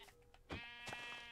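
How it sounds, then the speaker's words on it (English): A single sheep in the Minecraft video game lets out a short, wavering bleat, clear and close against a quiet background. "Oh, that's just a sheep."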